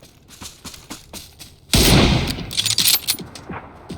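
Gunfire in a video game erupts after a stretch of quieter thuds: a loud close burst of rapid shots followed by a few scattered single blasts, fading toward the end.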